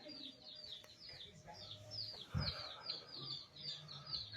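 Small birds chirp up in the ceiling of a post office in Dalton, Georgia, a quick run of repeated high tweets, fairly faint and close, with low murmuring voices and a thump beneath.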